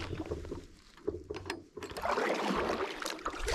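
A kayak paddle dips and pulls through water from a stand-up paddle board, giving soft splashes and gurgling swishes in an uneven rhythm, close and fairly quiet, with no talk.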